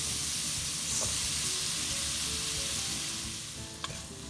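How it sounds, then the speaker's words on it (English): Steady sizzling and crackling of pumpkin pieces frying in a pan, with occasional stirring scrapes, continuous and close. "keep frying it till it turns golden brown"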